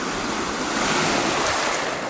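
Steady, loud wind roars across a Lake Michigan-style shoreline at Van Buren State Park, a broad rushing wash with surf mixed in and heavy buffeting on the microphone, with no voices.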